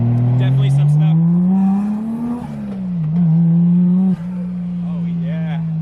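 Car with a 1JZ VVT-i engine out on a test drive, its engine droning steadily and close with pitch rising and falling through gear changes, one abrupt dip near the end, while people talk over it.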